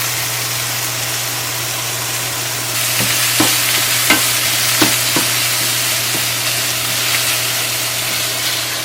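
Food frying and sizzling in a hot pan on the stove, a steady loud hiss with a few scraping clicks as the pieces are flipped over, no voices.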